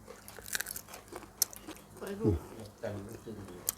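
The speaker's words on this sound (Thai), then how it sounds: "กัดเขียดละใส่ก่อน" Crunchy bites and wet chewing of grilled field frogs, a Thai grilled-frog dish, come in several close, irregular bursts with mouth noises, while someone talks over them.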